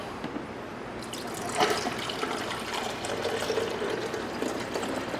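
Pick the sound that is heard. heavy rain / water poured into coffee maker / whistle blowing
water poured into coffee maker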